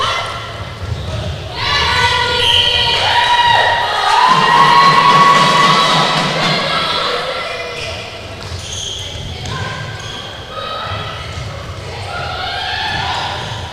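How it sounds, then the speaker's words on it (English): Loud crowd cheering and shouting fills the stands at an Isle of Man versus Wales open test match, with a steady roar rising and falling and drummers thumping along beneath it. "It's great to see the crowd getting behind the Isle of Man. They're quite loud, aren't they?"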